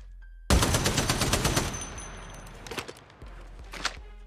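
Close, loud gunfire from a slow-firing gun in Apex Legends Mobile: a rapid burst of shots, then a few scattered single shots with game footstep and movement sounds, no voices.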